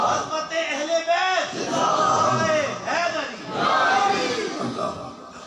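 A large crowd at a religious Shan-e-Rasool conference chants religious slogans in unison, in rising and falling rhythmic waves of many voices that fill the hall.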